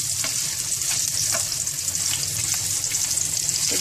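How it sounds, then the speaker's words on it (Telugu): Paneer pieces fry in oil with a dense, steady crackling sizzle heard up close. Occasional soft pops stand out above it, and no one speaks. "ఇలా తర్వాత పన్నీర్ ముక్కలను కొంచెం నూనె పోసుకొని ఇలా వేసుకోవాలి."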